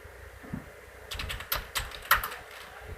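Keys clatter on a computer keyboard as Python code for a string input program is typed, a handful of close, crisp clicks in uneven bursts with quiet gaps between.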